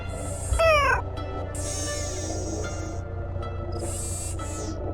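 A cat meows several times in a Nancy Drew mystery game set in Japan, each call a clear, close, rising-and-falling yowl over a low steady ambient hum, with a short pause between the cries.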